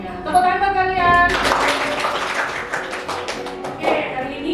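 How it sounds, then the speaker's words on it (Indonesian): A classroom of students breaks into a burst of applause, scattered hand claps rising after a teacher's voice and continuing for a few seconds before tapering off. "Tepuk tangan buat kalian."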